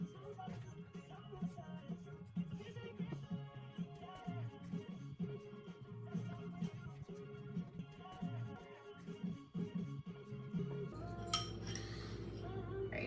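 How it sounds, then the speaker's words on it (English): Gingerbread icing ingredients are mixed in a bowl with soft, irregular clinks and scrapes of a utensil against the bowl, quiet and close, with a few sharper clatters near the end. "Now we just have to mix it up."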